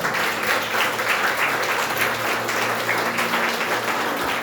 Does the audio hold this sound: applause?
yes